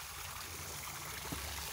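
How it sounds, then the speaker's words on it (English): Fresh, cold running water flows in a stream in a Black Forest botanical garden in Germany, giving a steady, broad rushing wash that stays even throughout, close by and without voices. "This is the fresh running water here, guys."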